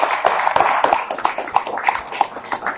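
Hands clap in a fairly regular rhythm, close and distinct, a small group applauding in quick repeated beats.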